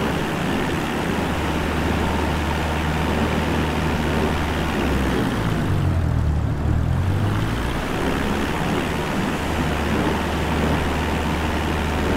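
A Cessna 172 in Microsoft Flight Simulator 2020 taxis in high wind, its engine holding a steady low drone with a continuous rush of wind noise throughout.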